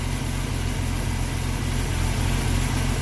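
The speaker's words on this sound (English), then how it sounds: "She's idling nicely." A Mercruiser 4.3L engine in a 1992 Sea Ray Sundancer 230 with an Alpha One Gen II drive idles steadily, a close, even low throb with no voices.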